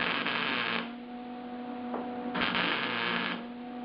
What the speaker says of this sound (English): let's weld this sucker up